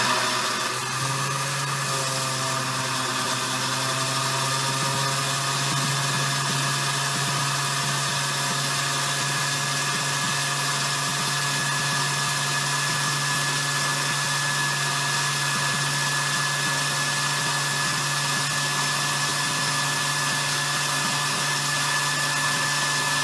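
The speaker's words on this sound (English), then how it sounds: "I'm gonna go ahead and put this on my high setting, and actually my low setting in puree." A blender purees pears into baby food on its low setting, giving a steady, loud, continuous motor whir with a constant pitch that runs unbroken for the whole stretch, with no talking.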